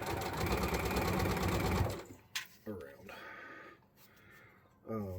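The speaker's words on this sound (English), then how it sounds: "I'm going to straight stitch this like I did the last time." A sewing machine straight stitches spandex for a wrestling mask in a steady, close whirring run that stops after about two seconds, followed by a voice speaking and faint handling sounds.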